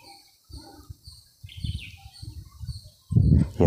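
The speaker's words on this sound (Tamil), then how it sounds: "இந்த குருவிகளோட சத்தம் மட்டும்தான் கேட்குது" Sparrows chirp faintly and high in a forest of jackfruit and silk-cotton trees in elephant country. Soft footsteps or rustling sit beneath the chirps, and a louder rustle comes near the end.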